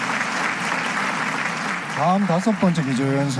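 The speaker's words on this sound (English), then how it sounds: "Let us give another round of applause to the Honorable Mike Pompeo" An audience at a peace rally gives a round of applause, a dense and steady sustained clapping. Near its end a voice comes in over the clapping.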